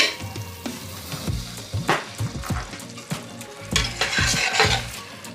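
Spices and shahjeera being stirred and fried in a pan for masala powder, with repeated scraping strokes, clinks of the spoon against the pan and a soft sizzle, close and without talk.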